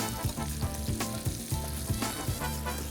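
Buttermilk-battered food frying in hot oil while being turned, a steady close sizzle with faint stirring and scraping sounds over it.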